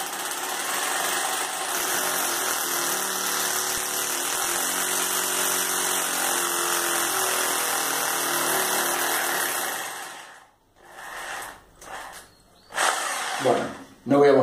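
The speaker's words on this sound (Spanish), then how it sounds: "Perforamos la pared, procedimiento es igual." An electric drill without hammer action bores into a wall while mounting a ceiling-and-wall clothes airer, a steady loud whine running for about ten seconds before cutting off, followed by brief shuffling sounds.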